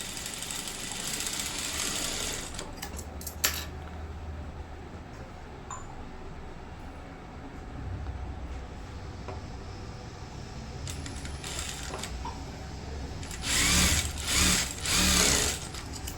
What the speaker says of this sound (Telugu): నేను దాని మీదే ఇలా చక్కగా సేమ్ అదే కుట్టు మీద ఇంకో కుట్టు కుట్టాలి.